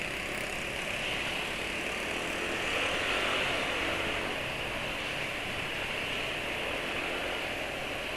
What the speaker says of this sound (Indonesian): 264 km suara mesin masih halus